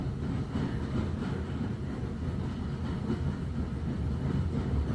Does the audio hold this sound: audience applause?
no